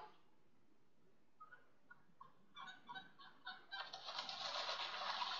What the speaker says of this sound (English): This is what geese sound like.